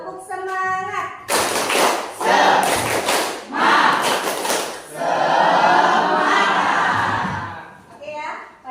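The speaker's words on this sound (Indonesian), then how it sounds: "Kalau semangat kita tepuk semangat dulu, ya." Schoolchildren in a classroom performing the rhythmic 'tepuk semangat' spirit clap, bursts of patterned group clapping and thumps separated by short gaps, with a teacher's voice and children chanting along between the rounds.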